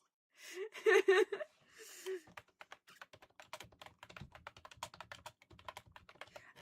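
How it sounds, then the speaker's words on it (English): Rapid clacking of a computer keyboard typed during a Terraria game stream, keys pattering steadily after a burst of voice and laughter at the start. "I love how my keyboard sounds."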